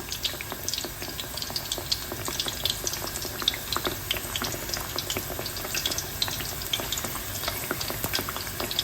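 Thai fish cakes made from featherback fish fry in hot oil, with a continuous close sizzle and crackle that carries a steady bubbling texture throughout.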